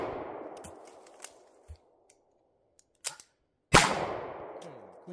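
Pistol shots ring out during an air marshal shooting qualification test. There are a few sharp reports with decaying echoes, including one loud, close bang near the end, along with faint handling clicks in between.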